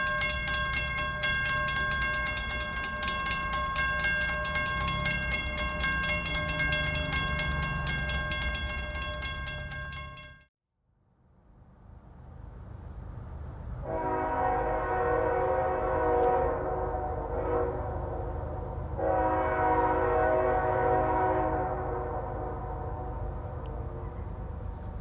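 A CSX freight train sounds its horn in long, sustained blasts at an activating road crossing, then after a brief lull rumbles on with a second series of horn blasts, loud and close with steady rail noise underneath.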